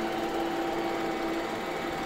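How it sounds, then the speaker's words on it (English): A robot vacuum cleaner runs indoors with a constant whirring hum and a high, steady motor whine, close by and unbroken, with no speech over it. "We'll try and clean this up with the robot Hoover."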